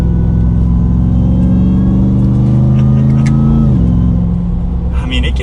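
A 2021 RAM 1500 TRX pickup truck accelerates under light throttle in a lower gear, its engine and exhaust droning loudly as the pitch climbs. The pitch drops briefly with a gear change, then rises again, with a voice talking over it.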